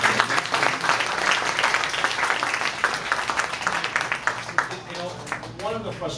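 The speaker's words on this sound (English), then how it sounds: "I want to give a round of applause to both Richard" Applause from guests at a fundraising dinner for Phillip Yin, a roomful of steady clapping with voices underneath, tapering off as murmuring talk takes over near the end.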